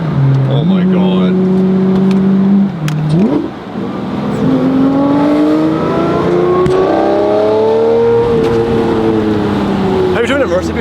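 A Mercedes engine revs up through the gears, its tone climbing, dropping at each shift and surging loud and close, with people talking over it.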